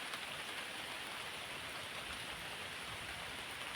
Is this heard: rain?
yes